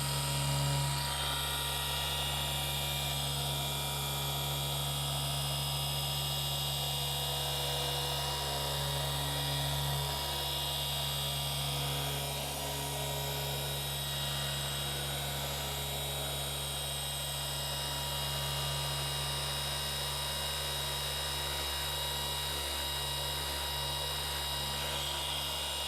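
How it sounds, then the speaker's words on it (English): A car polisher with its pad oscillating on the paint of a Techno Violet G80 M3 50 Jahre Edition, giving a steady, loud, high-pitched whine and hum that runs without pause throughout. "My pad is stalling, but it's still oscillating."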